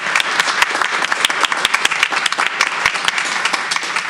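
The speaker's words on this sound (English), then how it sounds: "Give her a round of applause." Applause fills a school board meeting room as a newly appointed assistant principal stands, a steady crowd clapping with sharp individual claps standing out, loud and continuous throughout.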